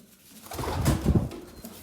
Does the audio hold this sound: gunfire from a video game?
no